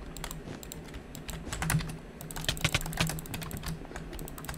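Rapid computer keyboard typing, a steady flurry of close, crisp key clicks with a few louder bursts of strikes, heard alone with no talking.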